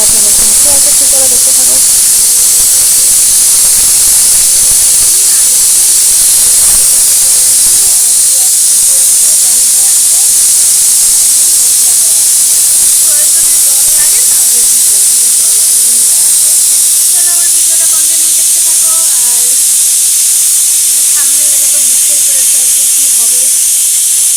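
Pressure cooker steaming peas for ghugni, a loud continuous high hiss of escaping steam filling the whole stretch, with faint voices and kitchen sounds underneath.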